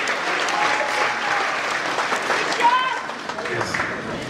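A concert audience at a live big band performance applauds steadily, a dense sustained clapping with a few cheers and voices mixed in.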